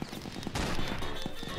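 Rapid machine gun fire from aboard a warship in a zeppelin and aircraft carrier battle video game, a dense, steady burst of shots layered over loud game noise for the whole moment.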